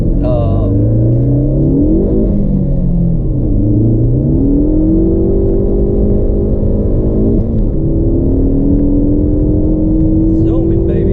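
A 2015 Ford Focus ST accelerates hard from inside the cabin, its engine note climbing through rising revs, dropping at gear changes and climbing again, loud and continuous.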